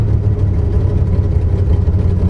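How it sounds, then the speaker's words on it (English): A 1953 Studebaker engine running at a fast idle with a possible carburetor setting issue, a steady close low rumble with an even rhythmic throb and no voices over it. "It's idling so high right now"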